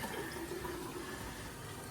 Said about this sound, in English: the last thing you want to do is run some water and just check down below